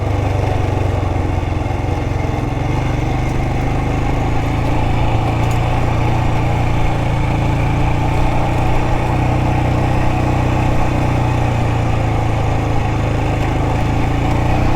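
Royal Enfield Himalayan 411 single-cylinder motorcycle engine pulling in first gear on a trail, a steady loud low-pitched drone with constant rumble throughout, close to the rider and no talk.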